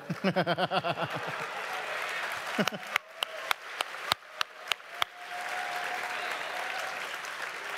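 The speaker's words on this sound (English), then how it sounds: "That's like the first applause of the panel" An audience at a Fallout 76 Q&A panel at QuakeCon 2018 bursts into applause: brief claps and loud sharp slaps, then a sustained wash of clapping and crowd noise from the hall.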